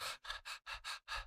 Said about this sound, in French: car en respirant par la bouche comme ça